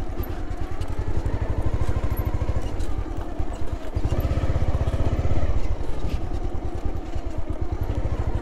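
A motorbike rides along a road near Bogura, its engine running loud and steady and close up, the exhaust pulsing through the whole stretch.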